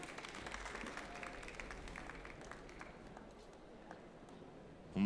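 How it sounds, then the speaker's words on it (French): Faint, distant clapping from an audience at a Swiss finger food culinary competition acknowledges a presenter, low and steady throughout with scattered individual claps. "On peut l'applaudir, merci."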